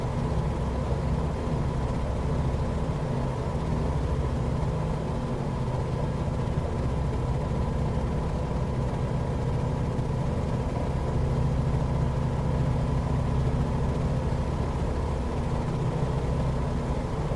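An aircraft engine in a flight video game runs at high RPM, a loud, constant, even drone that holds steady throughout with no breaks.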